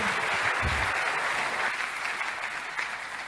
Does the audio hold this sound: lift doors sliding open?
no